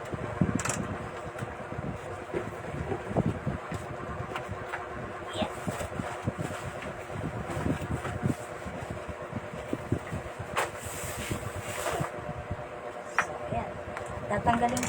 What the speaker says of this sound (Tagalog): Tatanggalin ko yung electric fan.